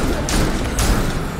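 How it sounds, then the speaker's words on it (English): Gunfire in the video game Gotham Knights, a couple of loud broadband blasts over a dense, continuous rumble of game action, with a player's voice faintly in the mix. "Keep him back with my gunshots."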